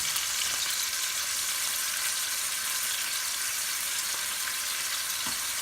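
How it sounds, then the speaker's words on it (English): Beef rouladen browning in a hot pan, an even, continuous sizzle heard up close with a few faint clicks, steady throughout and free of talk. "So once we have these browned all the way around, like that,"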